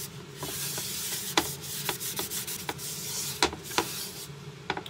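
A paper towel is scrubbed across a dirty crafting surface being cleaned of debris, giving repeated rough rubbing swipes with sharp scratchy strokes at an irregular rhythm, close and fairly loud.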